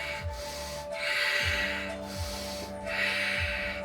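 Slow, forceful breaths during a vinyasa yoga sequence: three long breathy exhales in a steady rhythm, close and clear, with quiet inhales between them.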